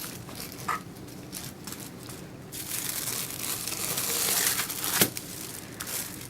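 Thin plastic film crinkles and rustles as blue soap dough, coloured with blue mica and charcoal powder, is handled on a tile, a steady close crackle that grows busier midway with a sharp crinkle near the end.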